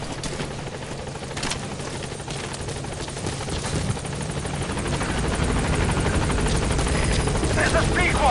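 A B-Quad helicopter in Metal Gear Solid 5 approaches a landing zone, its rotor thumping steadily and loudly, growing slightly louder as it arrives.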